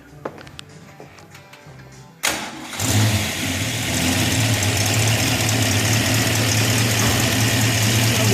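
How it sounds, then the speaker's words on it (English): A 1967 Shelby GT350 V8 with a Cobra intake and a suspected exhaust leak on the right bank fires up with a sharp catch, then settles into a steady, rumbling idle heard up close with no voices. "Sounds like it might have a little bit of an exhaust leak on that right bank."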